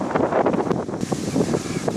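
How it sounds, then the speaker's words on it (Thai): Cool wind blows steadily across the cloudy coast at Lam Pam, Thailand, producing a loud, continuous, buffeting roar with gusty surges and no voices. "แต่ลมก็เย็นสบายดีครับฝนไม่ตก"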